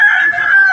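An aseel rooster at a busy chicken market gives a short, loud, steady crow, heard close and alone.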